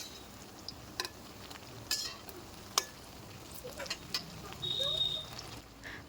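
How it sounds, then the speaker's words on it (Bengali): Crispy wheat-flour snacks fry in oil with a soft, steady sizzle, broken by occasional sharp clicks and stirring taps, fairly quiet throughout. "এই সময়ের মধ্যেই কিন্তু উল্টে পাল্টে লাল করে ক্রিস্পি করে ভেজে নিতে হবে।"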